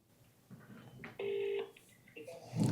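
A short steady electronic tone from a phone, like a dial or keypad beep, with faint shuffling around it and a louder rustle at the end.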